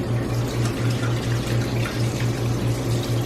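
Rinse water pours out of a rice cooker pot while sushi rice is being washed, a steady splashing trickle with a pulsing low hum underneath, close and continuous without talk.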